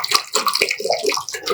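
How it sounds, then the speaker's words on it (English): Water pouring from a measuring vessel into a pan of spicy chicken soup on the stove, a short, steady splashing pour heard close up with no talk. "let me add a little bit of water for 200 ml"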